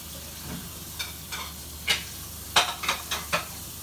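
Mixed vegetables with cucumber and soya greens added sizzle in a pan under a constant low hiss, with several light scraping and clinking stirring strokes close by.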